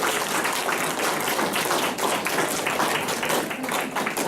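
An audience at a Korean regional studies seminar claps in rapid, dense rounds, about ten counted claps blending into a continuous burst of applause, steady and fairly loud throughout.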